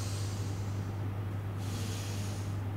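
Slow yoga breathing, one airy inhale and exhale heard as a soft hiss that swells and fades, close and alone over a steady low electrical hum.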